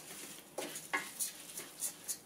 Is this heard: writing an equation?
no